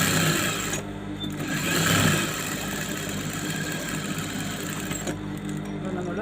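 Sewing machine stitching the side seam of a saree blouse lining, a steady continuous whir that runs the whole stretch with a brief swell partway through.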